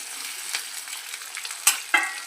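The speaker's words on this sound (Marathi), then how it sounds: "बटाटे टाकून ते चांगले मिक्स करून घ्यायचे" Boiled potatoes being stirred into sago khichdi frying in a pan, with a soft, close sizzle and scraping strokes that end in two louder stirring scrapes.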